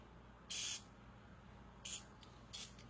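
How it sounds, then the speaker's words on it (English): Mezcal is misted onto a cocktail in three quiet, short hissing spray bursts. The first burst is the longest, and the next two are briefer. "Now we're going to take some mezcal to add to the smoky mess. Really good stuff. We're going to spray our cocktail like this."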